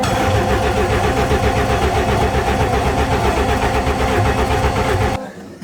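An AWD Honda Civic engine cranks hard on a freezing cold start, a loud steady churning drone of the starter for about five seconds before cutting off abruptly, with no catch.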